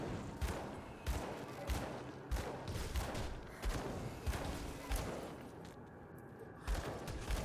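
Rapid repeated gunfire bursts in the action RPG Grim Dawn, sharp cracks arriving about once a second over a dense rumbling battle backdrop, fairly loud and continuous, with no talk.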